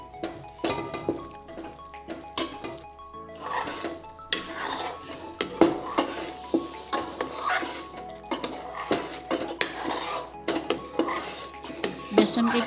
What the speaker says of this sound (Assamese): বেচনখিনিও ভাজি ল'ম 6-7 মিনিট সময়।